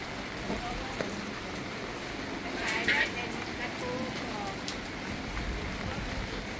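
Steady rain hisses over a busy outdoor market in Non Sung, Korat, Thailand, during monsoon weather, with faint voices and clatter mixed into the continuous wash of falling water.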